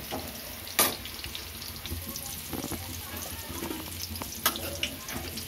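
Slices of bitter gourd fry in a pan with a soft, continuous sizzle. Occasional sharp clinks of stirring break in every few seconds, and there is no speech.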